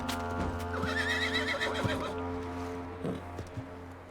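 In Red Dead Redemption 2, a horse whinnies in a quavering neigh near the start, followed by scattered clip-clop hoofbeats at moderate distance against a quiet game ambience.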